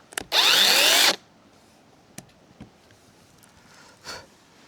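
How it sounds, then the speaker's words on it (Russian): A battery-powered saw with a partly drained battery makes one short, loud burst of about a second cutting wood, followed by quiet with a few faint knocks and rustles. "Пила уже, конечно, подсела немножко,"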